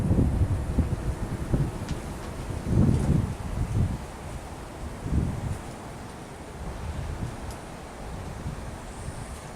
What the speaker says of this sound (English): The wind is blowing almost 20 miles an hour out of the west.